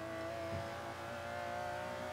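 A Ford GT race car engine in Forza 5 drones steadily at a constant pitch, a faint, even hum without clear revving.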